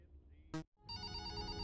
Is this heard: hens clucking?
no